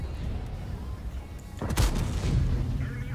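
A tank cannon firing in World of Tanks, a heavy broadband boom at mid-clip over constant engine rumble and battle noise.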